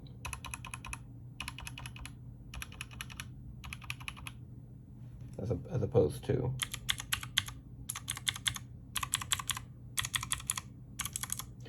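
Two mechanical keyboards, a Razer BlackWidow Mini with yellow linear switches and a Redragon K580, are typed on in evenly spaced bursts of crisp, fast clacking separated by brief pauses. Someone speaks briefly in the middle.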